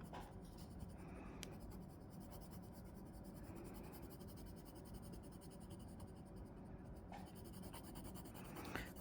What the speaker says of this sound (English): So now I'm pressing on the pencil a little bit harder.